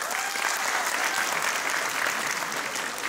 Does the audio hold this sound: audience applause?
yes